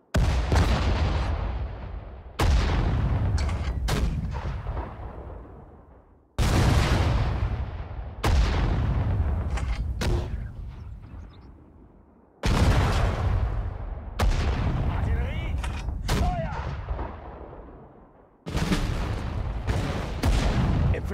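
Heavy artillery guns fire in the World War I Battle of Ypres in the strategy game Sudden Strike 4, each loud booming blast followed by a long rumbling decay, roughly every two to four seconds with no voices.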